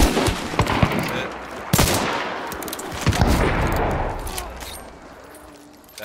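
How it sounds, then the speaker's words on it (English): Heavy nitro rifle shots in the game Hunt: Showdown, a few loud booming reports spread across the stretch with long reverberant tails and other gunfire and game ambience underneath. "That's a nitro rifle."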